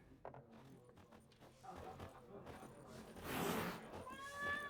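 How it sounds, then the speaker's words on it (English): A cat in the video game The Witcher 3 meows at Geralt, a faint, thin cry among quiet game ambience and a voice. "this cat really does not like Geralt"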